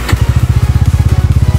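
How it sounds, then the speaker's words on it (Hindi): Bajaj Pulsar N150 150cc motorcycle idling, its exhaust giving a loud, close, even low thump pulsing rapidly and steadily with nothing else over it. "सबसे पहले एग्जॉस्ट नोट सुनाते हैं आपको"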